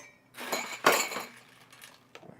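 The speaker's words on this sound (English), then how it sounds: "Let's get a glass." A drinking glass is set out on a kitchen counter beside a soda maker, giving a couple of close, brief clinks and knocks with a short rattle, and no talking.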